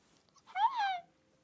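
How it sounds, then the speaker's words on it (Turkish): A single short cat meow from the Toca Life video game, clear and slightly synthetic, rising then falling, alone against near silence. "Kedi de varmış."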